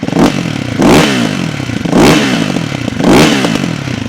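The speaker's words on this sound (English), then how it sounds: "I'll give it a little bit of a rev on idle so you can hear the pipes a bit better" Warm Ducati Hypermotard 698 Mono with a Termignoni exhaust at idle, given four quick throttle blips that bark out over the chuffing single-cylinder beat, loud and close.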